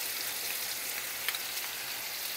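Sausage browning in a pan, a soft, even hiss of frying fat with a few faint pops, steady and continuous.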